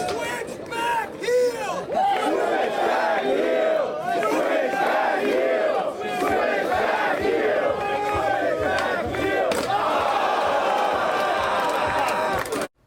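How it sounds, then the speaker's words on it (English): A crowd watching a skateboard trick whoops, yells and cheers loudly and continuously, with excited shouting voices layered over constant crowd babble. "the crowd requests a trick, and he goes for it with no hesitation"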